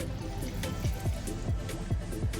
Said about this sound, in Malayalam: ഒരു കപ്പ് വെള്ളം ഒഴിച്ചു കൊടുക്കാം